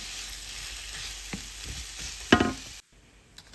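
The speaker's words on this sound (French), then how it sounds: "pendant que les oignons sont en train de cuire" Sliced onions fry gently in a pan for a potato boulangère gratin, a steady close sizzle with a brief clatter of stirring near the end before the sound cuts off abruptly.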